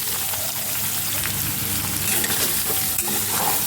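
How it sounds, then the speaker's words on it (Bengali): Soybean chunks frying in hot oil, a loud, dense, steady crackle and sizzle with light stirring knocks, close up and continuous, no voices. "তেলটা গরম হয়ে গেছে, আমি সোয়াবিনগুলো দিয়ে ভেজে নেব"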